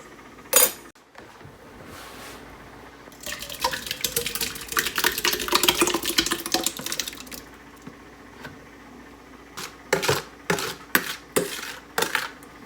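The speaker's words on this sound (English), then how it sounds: "I kind of wanted to just mix it and incorporate it together here before I put it into the pot" Strawberry jam mixture is stirred in a bowl before cooking, giving rapid scraping and clinking of a utensil against the dish, loud in a dense mid-clip burst and then in short separate bursts, close with no talking.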